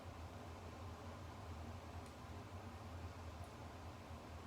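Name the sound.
air conditioner vent running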